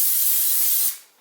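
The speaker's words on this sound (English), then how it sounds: "you're gonna take some cooking spray and you're gonna spray this bowl" Cooking spray hisses into a bowl being greased for cinnamon bun dough, a single steady close spray lasting about a second before trailing off quickly.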